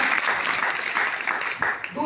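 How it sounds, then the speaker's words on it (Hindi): Audience clapping during a motivational talk, a dense, steady patter of many hands filling the whole stretch, fairly close and loud, with a few stronger claps near the end. "ताली बजाइए"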